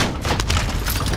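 Dense video game gunfire crackles as a steady, loud fusillade with boomy low thuds throughout, continuous over the short stretch without pauses.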